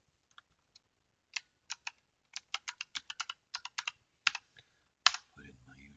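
Rapid clicking of keys as a password is typed on a computer keyboard during a software setup, in irregular bursts of sharp, close taps with short pauses, ending on a slightly louder keystroke followed by a low hum.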